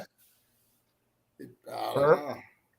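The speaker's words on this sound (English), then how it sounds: "Burp." A single loud, drawn-out voiced burp, close up, comes after a brief murmur and near silence.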